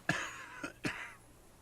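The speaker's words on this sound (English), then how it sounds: "He coughs." Three short coughs in quick succession sound close and clear, with the last two coming near together, followed by quiet.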